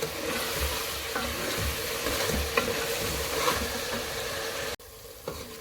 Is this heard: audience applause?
no